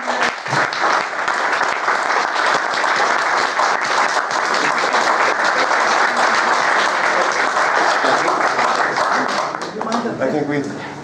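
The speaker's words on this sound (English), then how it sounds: "We should give him a round of applause." Sustained, dense applause from a conference audience fills about ten seconds after a guest speaker's talk on nicotine, with a voice speaking over it before the clapping tapers off near the end.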